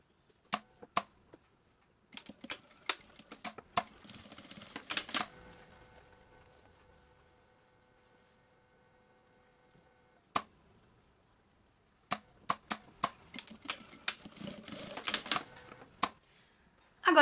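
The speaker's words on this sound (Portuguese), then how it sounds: "vou passar uma costura fechando tudo dos dois lados" A sewing machine stitches a closing seam along both sides of a small zipper pouch: short runs of rapid mechanical ticking and clatter, separated by quiet pauses and sparse single clicks, close by and with no talk.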